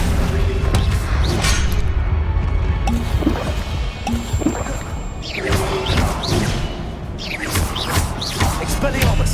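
Casting Accio in the Hogwarts Legacy video game sets off a loud, busy run of magical combat effects: booming impacts, crashes and swishes that pile on each other continuously for several seconds.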